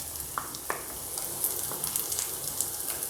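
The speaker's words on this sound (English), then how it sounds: "Now we'll add the onion." Chopped onion frying in hot oil in a pan for a vegetable Schezwan snack, with a constant close sizzle and a few soft taps and pops, and no voices.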